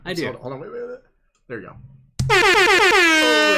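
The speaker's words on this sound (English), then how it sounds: "Do you want to hit the air horn one more time?" A loud air horn blasts in a studio at the end, a long steady honk following brief talking and a short quiet pause.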